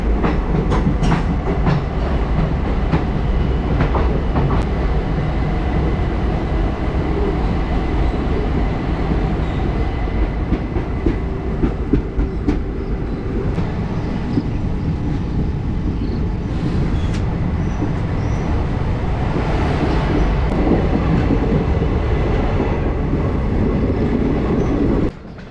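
The 14041 Mussoorie Express from Delhi to Dehradun running on a single-line section past Haridwar: a loud, continuous onboard rumble with rhythmic clickety-clack of wheels over rail joints throughout.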